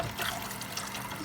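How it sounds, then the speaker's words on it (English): Water poured from a dish-rinsing container into cups on a kitchen counter, a steady close trickle and splash with no voices. "I will take this water and even dump it in here in my cups."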